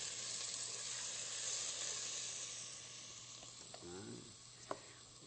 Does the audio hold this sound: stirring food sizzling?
yes